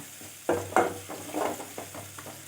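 Onions sautéing in a pan with asafoetida for coconut milk rasam, a soft sizzle with several scraping stirs, quiet and close.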